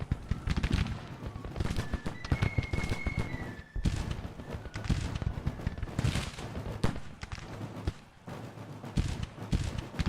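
Musket gunfire in the Civil War video game Authentic Civil War crackles in repeated irregular volleys, a dense string of sharp pops and thuds that rises and falls across the whole stretch, with faint tonal game sounds drifting through.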